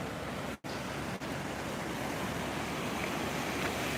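The Arkansas River near Cotopaxi, Colorado, rushing steadily in a broad continuous wash of flowing water with some wind across the microphone and a brief dropout near the start.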